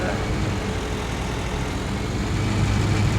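A tractor engine idles in a farming video game, a steady low diesel rumble holding level for a few seconds with a slight swell near the end, no talk over it.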